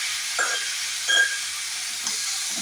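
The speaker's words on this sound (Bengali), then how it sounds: "আরও বেশ খানিক্ষণ ধরে তোমাকে কষিয়ে নিতে হবে এই মশলার পেস্টটা" Spice paste fries in a pan for a potol (pointed gourd) dish, a steady soft sizzle with a few brief scraping stirs.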